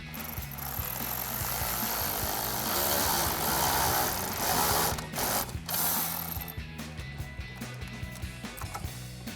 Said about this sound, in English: So we'll just go ahead and tighten that clamp down with our 8mm socket.